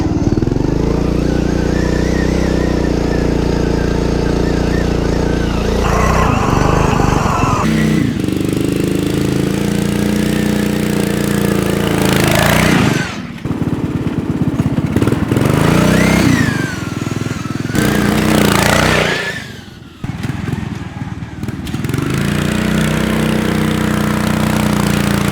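A rat rod racing lawn mower engine runs loud and close, rumbling and revving up and down with several sharp drops and surges, with brief pauses where the engine note cuts out.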